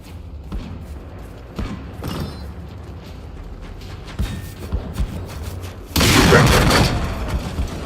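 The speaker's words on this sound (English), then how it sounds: "Maybe it's just because that's the default explosion" Explosions and gunfire from the video game Generation Zero: scattered thumps and bangs, then a loud, sustained blast near the end, with no speech.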